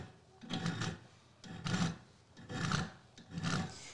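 A hand file rasps across a hand drill bit in four steady, evenly spaced strokes, each a dry scraping sweep, quiet and close with no talking.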